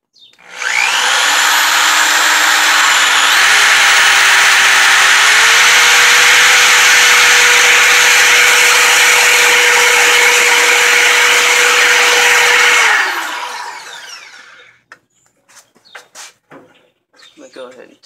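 A power drill runs loud and steady for about twelve seconds, its whine rising slightly in pitch partway through, then winds down, followed by a few faint clicks and handling noises.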